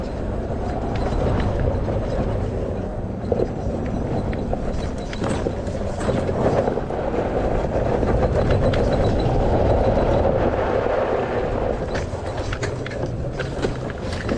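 A Christini electric ATV creeps down a sand wash near Moab, Utah, making a steady, loud broadband rush of tires and wind that holds without a break.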